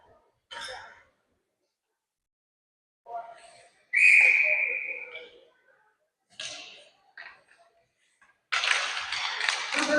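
At an ice hockey game, a referee blows one sharp, sustained whistle blast that stands out clearly among short bursts of arena noise.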